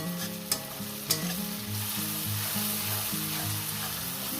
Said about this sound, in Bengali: আমি এটাকে আরও এক মিনিট কষিয়ে নেব